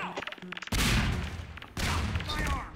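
Grenade blasts and gunfire from the co-op game Half-Life 2, with two loud sustained bursts of explosive noise after rapid clicky shots, while players talk and laugh over the action.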